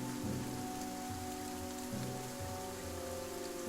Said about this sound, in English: And it's raining, so the shallow graves are, Oh, okay. caving in.